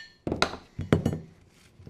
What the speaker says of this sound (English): We'll remove any excess nails left underneath the fastener and all the nails left in the applicator tool.